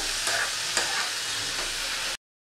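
Taro leaves cooked with shrimp are stirred in a frying pan until dry, producing a steady close sizzle with a few soft scrapes of the spoon before the sound cuts off abruptly.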